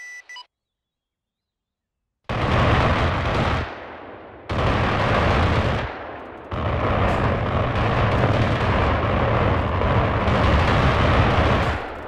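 Aircraft guns firing in a video game: after a short beep and silence, long, loud, sustained bursts of rapid cannon fire broken by brief pauses, close and dense.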